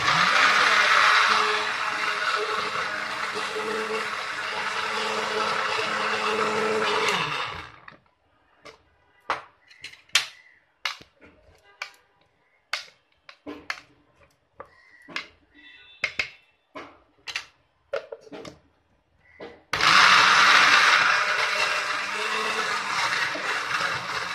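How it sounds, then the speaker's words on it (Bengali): A blender grinds leaves with a little water for a mashed ghetkochu-leaf dish, whirring loudly for several seconds, falling silent during a stretch of scattered clinks and taps, then grinding again at full power. "যেহেতু ব্লেন্ডারে একটু জল লাগে, তাই হালকা জল দিয়ে দিচ্ছি।"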